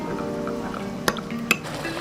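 Spoon stirring a thin cornflour-and-water slurry in a bowl for chili chicken sauce: steady soft liquid swirling throughout, with two sharp clinks of the spoon against the bowl near the end.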